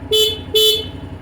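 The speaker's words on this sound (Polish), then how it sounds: "klakson" Two short horn honks from a Honda NC 750 X DCT motorcycle, loud and close, each about a quarter second with a brief gap between them, over a low engine rumble.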